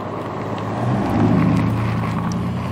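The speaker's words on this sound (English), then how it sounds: "Man, a lot of traffic today." Road traffic on Ridge Road swells and rolls past during an e-bike ride, a broad steady rumble mixed with wind buffeting the helmet microphone, no talking.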